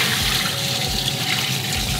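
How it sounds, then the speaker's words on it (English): Running water rinsing fresh caviar eggs, a steady close rush of flowing and splashing water with no voices. "I'm gonna rinse them out."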